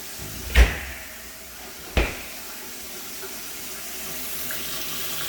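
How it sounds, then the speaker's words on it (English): Water runs from a kitchen tap in an empty, freshly cleaned home: two sharp knocks from the tap or cupboard come first, then a steady, fairly quiet stream of water hisses on alone. "We do have hot water"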